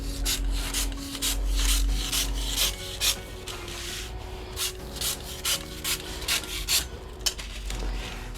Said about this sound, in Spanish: Vamos a abrir el cúter bastante y vamos a ingresar el cúter por el doblez